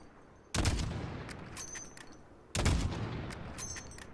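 Two loud bursts of gunfire in the video game Call of Duty Modern Warfare, each a sharp broadband blast about two seconds apart with a rumbling tail, while faint clinks and tones sound in the background.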